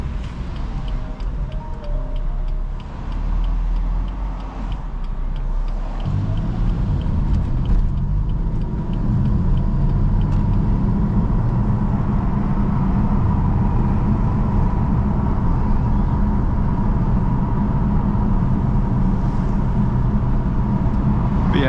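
BMW F82 M4 with the S55 engine driving in the rain: a steady, loud low engine drone and road rumble from inside the car, with a slight shift in tone early on and no talking.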